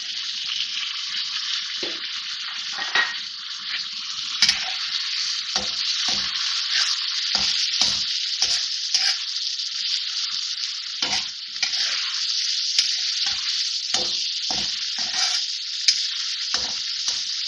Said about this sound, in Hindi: अब टमाटर डाल रही हूँ इसमें